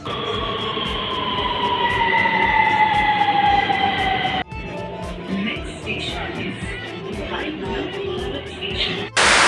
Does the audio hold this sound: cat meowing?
no